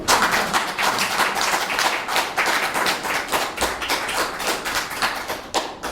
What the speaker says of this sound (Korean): 박수가 안 나옵니까?